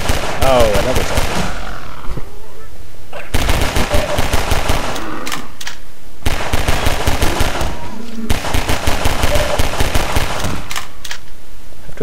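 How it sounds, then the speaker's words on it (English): Rapid, loud shots from a pistol fired at zombies in Half-Life 2, coming in dense rattling bursts separated by two brief pauses, with a voice talking along. "this pistol is kind of effective just for enemies like a zombie that are quite slow moving"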